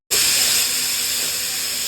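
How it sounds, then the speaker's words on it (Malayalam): A pressure cooker lets out a loud, steady hiss of steam nonstop for nearly two seconds, bright and high-pitched, with no tonal whistle rising above it. "കുക്കർ അവിടെ തകർത്ത് വിസിൽ അടിയോടടി"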